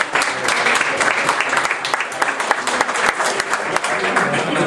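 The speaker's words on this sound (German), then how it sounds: "Applaus." An assembly breaks into sustained applause, many hands clapping densely and fairly loudly from start to finish, with some voices underneath.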